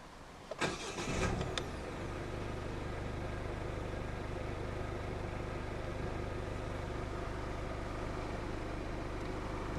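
A 2015 Peugeot 308 1.6 HDi 92 diesel with a five-speed manual cranks briefly and fires up, then settles into a steady, loud, close idle clatter that runs unbroken to the end.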